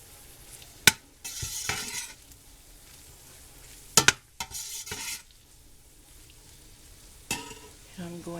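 Spoon stirring enchilada filling with taco seasoning in a frying pan, producing a few brief scraping, sizzling bursts separated by quieter gaps.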